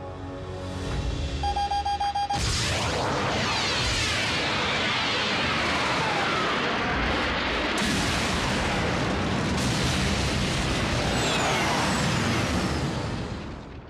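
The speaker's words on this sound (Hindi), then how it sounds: "मैं तुम्हें बताना चाहता हूं कि जब 3 टन का एनर्जॉन फटता है तो उसकी आवाज कैसी होती" A massive blast from three tons of Energon detonating in a Transformers cartoon: a sudden loud crash a couple of seconds in, then a long roaring, crackling rumble that keeps swelling with fresh bursts, heard alone without voices.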